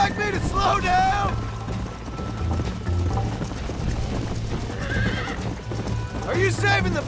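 Steady galloping hoofbeats in the video game Red Dead Redemption, with a horse neighing loudly at the start and again near the end, over a rumbling background with voices talking.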